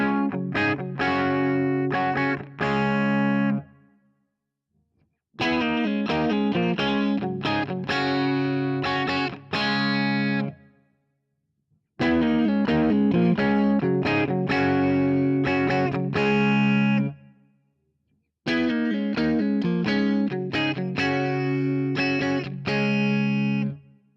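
An Ibanez AZ224F electric guitar plays on its humbucker with the alt switch up, through a clean amp. Four loud, close phrases of strummed chords and riffs are divided by short silences.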